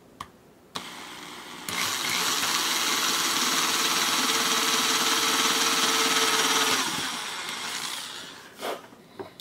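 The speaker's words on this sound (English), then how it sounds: "That's why I like doing it on the drill press." A drill press bores into a rounded blaster kit part, a steady loud whirring grind lasting about five seconds after a brief start, then winding down with a few clicks at the end.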